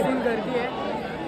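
Crowd chatter fills a packed college hall at a live show, a steady dense babble of many voices with no single talker standing out.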